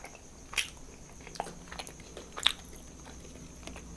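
Tuna sushi being eaten up close: two or three soft, wet bites and chews stand out against a quiet background, spaced a second or two apart.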